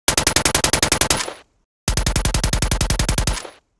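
Two bursts of designed automatic gunfire with heavy low-end impact layered under each shot, rapid evenly spaced rounds, loud and close, separated by a short gap.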